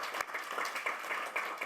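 An audience applauds with a dense, steady patter of many hands clapping. It is faint and heard alone, with no talk over it.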